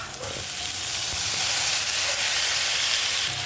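Chicken feet added to a pan of sautéing tomatoes, garlic, onion and ginger: a steady, loud sizzle and hiss of frying that runs throughout, close and alone.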